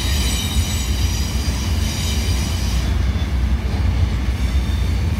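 A mixed manifest freight train rolls past in Dallas, Texas: a steady, loud rumble of rail cars on the tracks with some high wheel squeal, holding continuous and close for the whole stretch.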